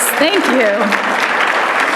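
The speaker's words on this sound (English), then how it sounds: "Stand up so we can give you a big round of applause" Steady crowd applause fills a graduate exhibition reception for a 2022 capstone class, with a voice briefly speaking over the clapping.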